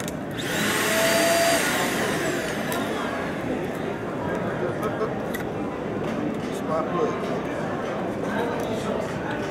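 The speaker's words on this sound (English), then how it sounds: "and now you can vacuum floors like that as well" An Eden Pure vacuum cleaner with its power nozzle attached runs across a floor at a trade show, a loud steady motor whine throughout, with voices in the background.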